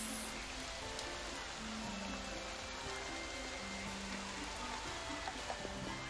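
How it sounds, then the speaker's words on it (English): Heavy rain from a tabletop ambience soundset, a dense continuous hiss of drops pattering on surfaces, steady and fairly faint, with no voices. "We need some heavy rain."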